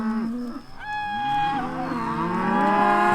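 Mashona cross cattle moo loudly and close by, several long drawn-out bellows overlapping one another, with no voices.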